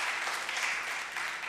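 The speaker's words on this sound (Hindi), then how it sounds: "क्यों ना तालियों के द्वारा उसको भी हम स्वागत करें" A church congregation at a Sunday Hindi service claps in welcome for a returning guest, a short burst of steady, moderately quiet applause filling the hall with no voices over it.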